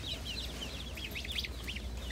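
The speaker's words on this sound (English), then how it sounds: "So here are some baby ducks." Baby ducks at a farm store cheep in quick, high repeated calls over a steady low background hum, several chirps overlapping near the end.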